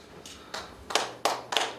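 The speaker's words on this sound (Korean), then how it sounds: "박수도 함께 하겠습니다." Audience at a Presbyterian church mission society's general assembly gives a few sparse, faint claps in separate bursts, recorded from a distance in a large hall.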